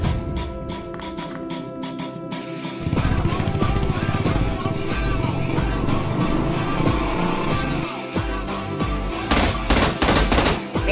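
Shotgun and other gunfire in an online shooter game: dense, rapid bursts of shots over a steady droning backdrop, loud and continuous for about eleven seconds, louder again near the end.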